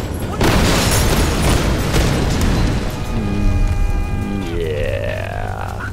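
A big explosion goes off in the 2013 Tomb Raider video game, a loud sustained booming rumble with crackling debris. A falling tonal effect follows near the end.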